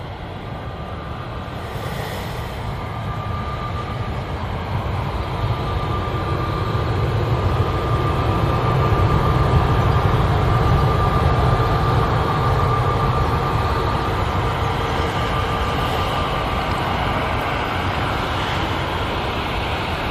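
Gulf Air Boeing 787-9 Dreamliner touching down on runway 23R at Manchester Airport, a steady, loud broadband roar swelling gradually and holding for about twenty seconds, with a faint sustained whine above it.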